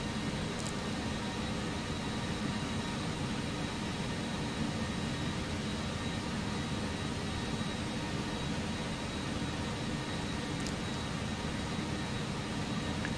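A BAE-146 airliner's jet engines roar on takeoff in a flight simulator, a steady, dense broadband rush that holds evenly throughout with no speech.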